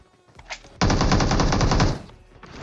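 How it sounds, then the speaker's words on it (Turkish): Rapid automatic gunfire in the PUBG battle royale game, aimed at a boat on the Erangel map, rips out in one loud sustained burst of just over a second, preceded by a few softer shots. "Ya sen de botu niye sıkıyorsun canım kardeşim?"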